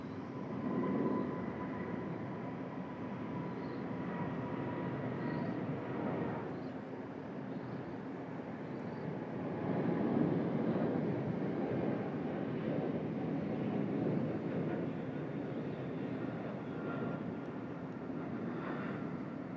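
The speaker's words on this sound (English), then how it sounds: "Here goes Korean Air. Heading back to Incheon, mind you." A Korean Air airliner taking off from Sydney Airport heard from a distance, a broad steady jet roar with a low rumble that swells midway and holds, no speech over it.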